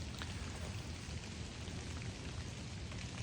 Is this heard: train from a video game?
no